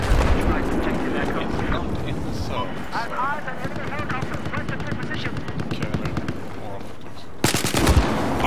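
Battlefield 4 combat with rapid gunfire and explosions, continuous and dense, with a sharp loud blast near the end; voices talk over the battle noise.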